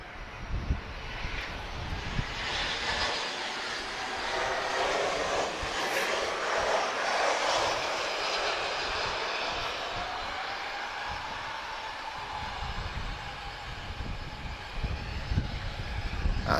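A TAP Air Portugal Airbus A319 on approach to land in a crosswind, its engine noise a soft, distant rush that swells slightly midway, with faint wind and occasional low thumps.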